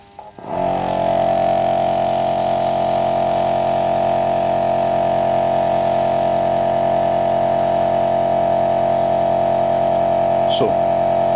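An Iwata HPC airbrush run by a Sparmax ARISM mini tankless compressor switches on and holds a loud, steady hiss over a constant motor hum, with one small click near the end.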